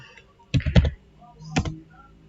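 Two brief bursts of computer keyboard typing while entering Cisco switch configuration commands, a quick cluster of several keystrokes followed by a single sharper clack, close and fairly quiet with no talk.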